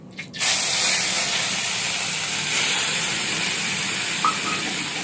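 A garlic and onion paste goes into hot oil, bursting into a loud, sudden hiss that settles into a steady close sizzle and keeps going.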